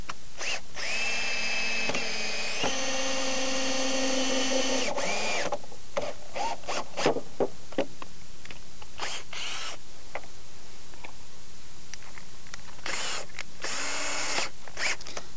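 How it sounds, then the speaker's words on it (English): A power drill bores small holes through a wooden plate while building log furniture, running in several bursts of steady whine close by, with clunks and tool handling between them and the sound stopping near the end. "And we would go around and drill a"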